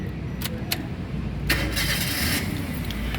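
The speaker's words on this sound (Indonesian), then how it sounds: "Sekarang kita coba nyalakan mobil." A 2013 Toyota Rush 1.5 S automatic has its key turned and its engine cranks briefly, then catches and settles into a steady idle, with a few faint metallic clicks before the start and no talk.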